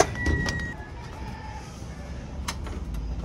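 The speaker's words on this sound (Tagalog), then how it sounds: "Check natin yung mga ibon natin mga par." Pet pigeons in a loft, a few short chirps and coos over a low background rumble, with a faint tonal whistle drifting through.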